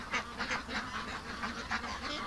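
Ducks near their pen, one of them wild, quack repeatedly in an uneven run of short, nasal calls. The sound is close and moderately loud against steady outdoor background noise.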